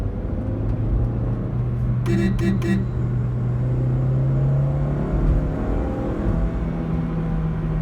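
Inside a 2012 Honda City with a 1.5 litre four-cylinder VTEC petrol engine accelerating hard, the engine note climbs steadily with a shift and fresh climb. A short burst of beeps sounds early on.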